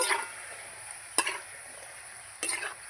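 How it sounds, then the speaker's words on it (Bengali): Gaja sweets fry in a small amount of oil with a gentle, continuous sizzle, broken by three sharp scrapes of a utensil stirring the pan, close and without voices. "এই যে আমি এরম করে কিন্তু অল্প আছে ভেজে নিচ্ছি দেখুন একদম তেলটা কম ফুটছে আর নাড়িয়ে যাব"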